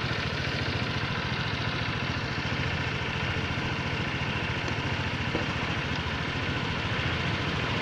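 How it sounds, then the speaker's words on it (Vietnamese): A Honda SH scooter engine idles steadily just after starting, a constant close, even drone with no talk over it. "bật chìa khóa về ở chế độ on. Rồi nổ máy."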